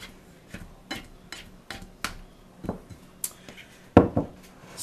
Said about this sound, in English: And then scrape down the sides of the bowl